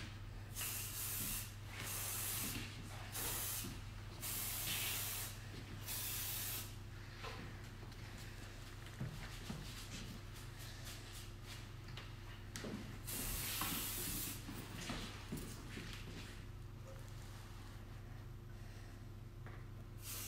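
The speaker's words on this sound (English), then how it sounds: "Bit of hairspray for the crown." Hairspray hisses onto the crown of a short layered haircut in a series of short, sharp aerosol bursts at the start, followed by quieter stretches of faint rustling close by.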